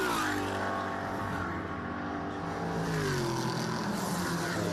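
A Camaro GTS race car at Canadian Tire Motorsport Park powers up the straightaway during a 2017 Pirelli World Challenge race, its engine roaring loud and steady with a slowly climbing pitch as it pulls away.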